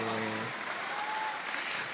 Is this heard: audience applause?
yes